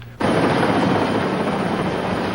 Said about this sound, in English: A Flight for Life helicopter arrived within 20 more minutes.